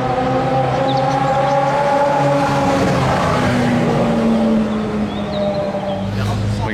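Hypercar engine revving on the street at the Top Marques Monaco show, a loud sustained motor tone that climbs and settles with rising pitch, plus background crowd murmur and faint voices.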